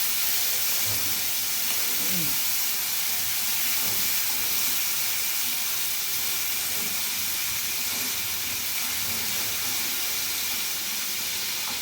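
Prawns frying in oil in a pan give off a loud, steady hiss and sizzle that continues without a break, with faint clatter underneath and no voices.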